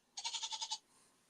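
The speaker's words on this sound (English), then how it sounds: "It sounds like a goat." A single short goat bleat, a quick wavering vibrato of about six pulses, heard alone and fairly faint against a quiet background.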